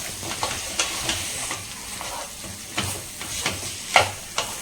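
Cut curry leaves fry in hot oil for a dried anchovy, mango and brinjal curry, giving a soft continuous sizzle with repeated crisp spatters and stirring clicks close by.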